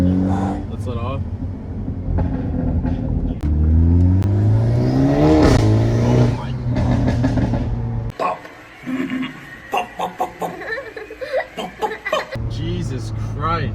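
A Hyundai Elantra N with a catless downpipe revs hard, its loud exhaust rising and falling as it drops through downshifts, followed by a rapid series of crackling pops, with people reacting and laughing in the cabin.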